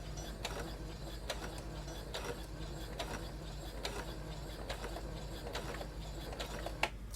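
A sewing machine slowly stitching across a lace fashion mask, heard as a soft run of regular mechanical clicks and ticks, evenly spaced and fairly quiet, with no voices.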